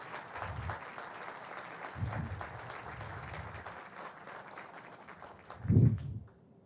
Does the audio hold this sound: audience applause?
yes